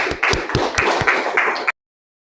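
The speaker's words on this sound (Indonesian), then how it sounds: "kita beri tepuk tangan untuk kelompok 1" A classroom group claps for the first presenting group at a school, a short burst of close, uneven applause from several people that stops abruptly.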